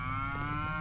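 Cattle close by on a farm pasture, lowing with a steady, sustained moo that sits among a constant layer of engine and background hum.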